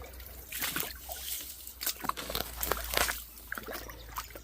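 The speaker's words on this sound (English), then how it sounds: "Really shallow, this creek at this spot." Shallow creek water trickles and splashes over rocks in a steady, close burble, with small sloshing bursts and a low rumble of wind or handling beneath.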